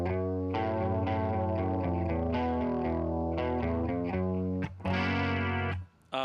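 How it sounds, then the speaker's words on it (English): Electric guitar played through a chorus effect with added distortion, sustained chords ringing loud and shimmering with a steady rhythm, briefly dropping out near the end before a final strum. "So chorus helps, and then helping of a distortion."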